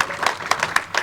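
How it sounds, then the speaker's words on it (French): An audience at a bowling tournament in Fontaine-le-Comte, France claps in a brief burst, a dense rattle of many hands with periodic sharper peaks, fairly loud and close. "sous les applaudissements du public de Fontaine-le-Comte"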